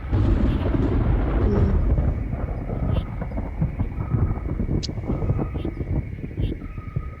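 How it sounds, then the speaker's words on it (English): Low, sustained rumble of thunder rolling through a tabletop role-playing game storm scene, heaviest at the start and then easing into a softer, steady roar with faint wind-like hiss over seven seconds. "you hear thunder."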